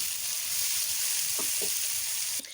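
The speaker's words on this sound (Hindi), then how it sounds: "तो यहाँ पे हम 2 से 3 अगर टमाटर लेंगे और इनको भी अभी हम ऑयल में ही फ्राई करेंगे।" Tomatoes and green chilies frying in oil in a pan, a soft, steady sizzle heard close and quiet, with a couple of faint clinks near the end.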